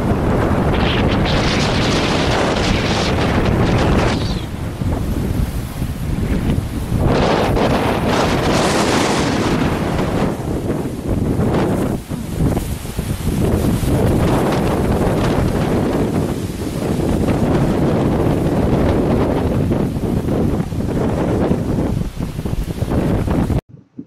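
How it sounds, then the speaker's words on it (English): Strong storm wind roars and buffets the microphone continuously for the whole stretch, loud and rough with surging gusts and no voices. "That's a wind that is pretty intense."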